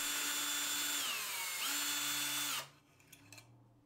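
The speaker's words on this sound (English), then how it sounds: "So I'm just gonna remove those with a drill real fast." A power drill whirs steadily with a rising and falling pitch while removing ceiling fan screws, then cuts off, leaving faint clicks and light rattling afterward.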